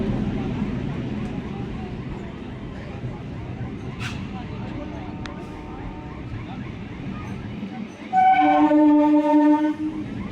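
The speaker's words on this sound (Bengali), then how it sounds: "ট্রেন ঢুকে গেছে।" Train pulling into a station in Kolkata on the Sealdah line amid platform bustle, a low rolling rumble under voices, then a loud multi-tone horn blast sounding close near the end.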